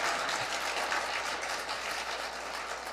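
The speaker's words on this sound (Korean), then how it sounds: "박수 소리가 좀 작네" An audience applauds during an Advent lecture, producing a thick, even wash of clapping that runs steadily from start to finish with no one talking over it.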